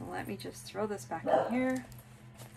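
An indoor dog barks and yips in short, high bursts mixed in with a person talking nearby, the yelps loudest partway through and set against a low steady hum.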